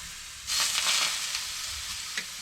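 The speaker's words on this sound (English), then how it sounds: "I have a sliced aubergine, which I sliced already, and I have my griddle here" Sliced aubergine sizzles on a hot griddle, a steady broadband hiss that swells as the slices go down and settles into a continuous fry, with a brief pop near the end and no talking.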